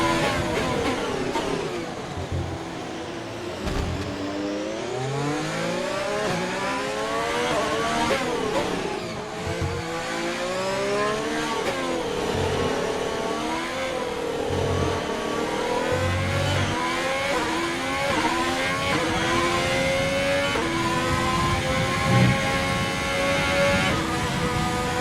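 Formula 1 cars in the F1 2020 video game, a Haas on the Baku street circuit, scream steadily through the whole stretch, the engine pitch rising and falling with gear changes, loud and continuous with no talking.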